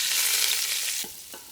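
Onion and chopped green chilli frying in pure mustard oil, a loud bright sizzle that eases off after about a second, followed by a couple of stirring scrapes, close up.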